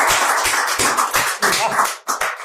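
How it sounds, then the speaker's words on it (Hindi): Audience clapping at a comedy stage show, loud rhythmic claps from a crowd in regular pulses, close and continuous with no talk over it. "जोरदार ताली बजा दीजिए।"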